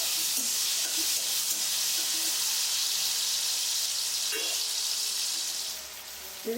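Tomatoes fry in a pan for a home-style paneer masala made without onion or garlic. A loud, continuous hiss of sizzling carries a few soft stirring knocks and eases slightly near the end.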